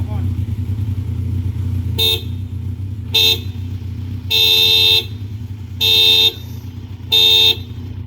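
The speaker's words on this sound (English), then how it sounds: "Now the horn." Aftermarket horn fitted to a Kawasaki Ninja 1000 SX motorcycle, five loud blasts of varying length over a steady idling engine.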